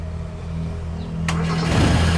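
A car engine cranks on a weak 10.6-volt battery boosted by a 70mai jump starter, then catches and fires up with a burst of noise, settling into a rough running rumble.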